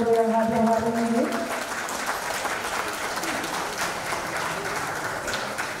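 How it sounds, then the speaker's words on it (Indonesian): Audience applause fills a hall at a national friendship gathering of Jakarta religious figures and NGO leaders, a dense steady wash of clapping that follows a brief announcer's voice and holds strong for several seconds. "Boleh saya minta tepuk tangan terlebih dahulu dari seluruh yang hadir hari ini."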